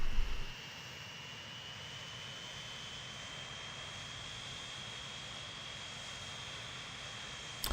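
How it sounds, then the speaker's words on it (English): A big cargo plane comes in to land over water in the game Transport Fever 2, a steady, broad engine drone holding at even strength throughout with no talk over it. "there's the big cargo plane in the background there coming in for a landing also"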